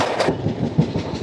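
Janmabhoomi Superfast Express, a joined pair of superfast express trains running as one long train on Indian Railways track, rolls past with a steady loud rumble and faint clatter of wheels.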